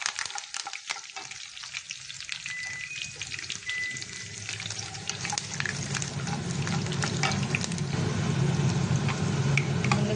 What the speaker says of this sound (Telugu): వెల్లుల్లిపాయలు వేసుకొని కరివేపాకు వేసుకోవాలి. వేసి వేయించుకోవాలి.